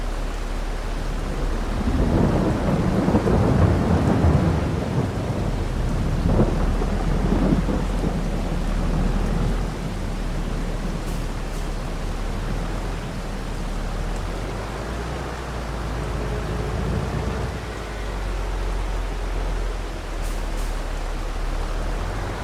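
Video game rain in Farming Simulator 22: steady heavy rain pours throughout while deep thunder rumbles loudly near the start, then fades into a continuous downpour.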